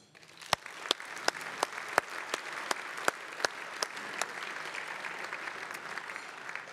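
Audience applause fills a hall during an SVP city and canton anniversary celebration at the KKL, a dense steady clapping wash punctuated by sharp individual claps, fairly loud throughout and free of talk.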